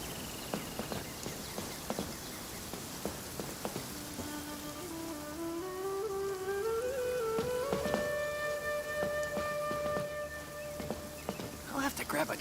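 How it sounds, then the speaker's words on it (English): Rain patters steadily on surfaces in a Genshin Impact forest scene, dense drops and occasional louder splashes continuing alone while soft game music rises underneath. "It's raining again?"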